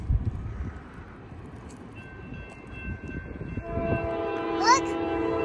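Norfolk Southern freight train approaching and sounding its horn at a rail junction, a low rumble building as the loud sustained multi-tone horn blares out in the second half, heard outdoors from trackside.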